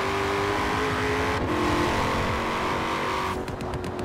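A Chevrolet Camaro with all-wheel drive revs loudly in the Forza Horizon 4 racing game, its steady engine drone rising and falling as it accelerates, with a brief shift in pitch partway through.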